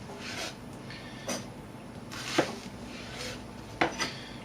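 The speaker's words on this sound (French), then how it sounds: "on coupe les oignons en toutes petites lamelles" Onions are sliced into very thin strips with a knife on a board, a few soft scattered cuts and light clicks over a quiet kitchen background.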